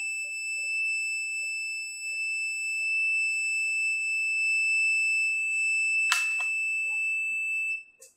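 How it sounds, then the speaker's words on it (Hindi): A multimeter's continuity buzzer, set on the X1 range, gives a steady high beep that holds for about eight seconds over a quiet background while a diode for a mobile phone is tested. "इसमें कंटिन्यूटी की आवाज भी सुनाई दे रही है।"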